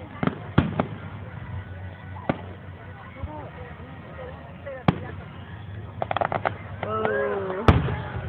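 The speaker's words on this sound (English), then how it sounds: "Look at the fireworks." Fourth of July fireworks in San Diego burst with scattered sharp bangs and crackling pops, mixed with rising whistles, heard from the crowd at moderate distance with faint voices around.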